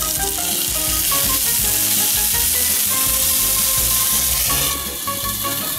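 Food frying in a breakfast skillet with occasional stirring, a loud, close, continuous sizzle with clinks and scrapes from the utensil, and no voices.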